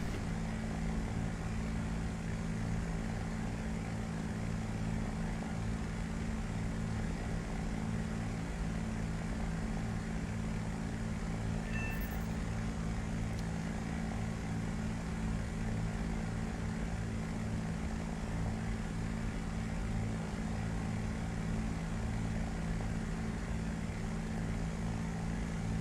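Engine and propeller drone of an aircraft with underwing pylons in a flight simulator game, a steady, unbroken hum that holds at an even level throughout with no one talking.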